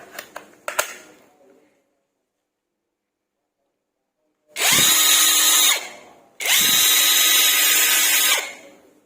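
A few sharp clicks, then two long bursts of a cordless impact wrench spinning at high speed, loud and close, with a short pause between them.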